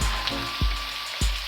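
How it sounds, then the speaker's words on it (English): Spaghetti sauce sauteing in a pan gives a steady, close sizzle and bubbling hiss, with a couple of soft low thumps from stirring. "I'm just sauteing it together."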